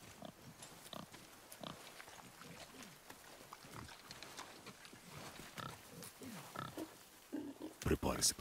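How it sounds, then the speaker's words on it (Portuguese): A wild boar in the video game God of War snorts and grunts in a run of low, rough calls that grow louder toward the end, with game ambience around it. "Sabia que era um javali."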